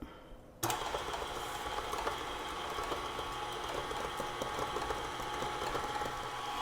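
Electric mixer whirring steadily on low speed through almond flour cake batter for an apple ricotta cake, starting abruptly after a brief quiet moment and continuing as an even, close mechanical hum with faint rattling.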